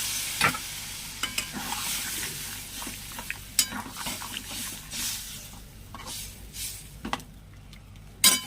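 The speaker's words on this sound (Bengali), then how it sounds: "বেশ কষানো হয়ে গেছে এই জলটাই দিয়ে দেবো" Fish curry masala for mourala fish chorchori with potato and brinjal sizzles in a pan while water goes in, with a steady frying hiss broken by sharp spoon scrapes and clinks against the pot.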